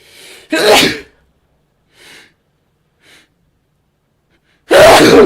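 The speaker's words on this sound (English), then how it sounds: "And have a sneeze." Two loud, close human sneezes, one near the start and another at the end, separated by quiet breaths and sniffs with no talking between them.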